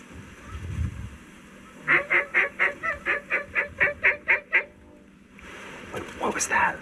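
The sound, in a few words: goose honking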